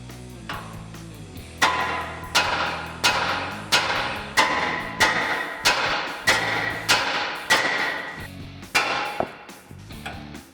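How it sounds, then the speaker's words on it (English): Repeated sharp metallic hammer blows on a Toyota Tacoma steering knuckle to release a ball joint, about a dozen evenly spaced strikes ringing close by, each with a short decaying ring. "strike this side right here with a hammer to release this ball joint"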